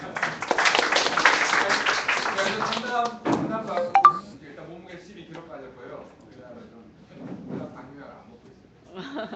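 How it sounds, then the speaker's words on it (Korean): An audience at a Korean presentation claps in a dense burst for about three seconds, then someone talks on a public address system. "박수 한번 드립니다"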